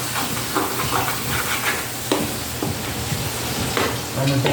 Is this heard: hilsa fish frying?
yes